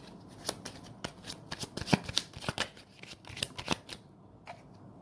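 Tarot cards shuffled by hand close up, a soft flurry of rapid papery riffles and taps that fades out near the end.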